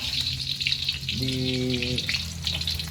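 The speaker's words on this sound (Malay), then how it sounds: "Terlebih dahulu kita akan tumis bawang putih yang telah" Peeled garlic sautéing in hot oil as the first step of sambal for nasi lemak, a continuous close sizzle with a short tonal hum in the middle and no voices.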